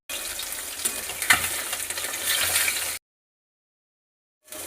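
Turned fish fries in mustard oil with a close, loud sizzling hiss and a brief spatter, then cuts to silence before the frying noise briefly returns.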